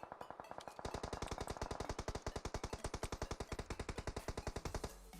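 Rapid automatic gunfire in PUBG Mobile, a long unbroken stream of loud, close shots with an even, fast rhythm that runs for about five seconds and stops just before the end.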